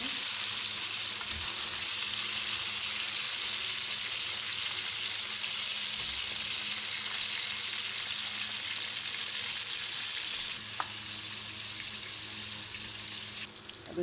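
Eggplant fries in hot oil with a steady, close sizzle that holds for the whole stretch, easing slightly toward the end, with faint clinks now and then.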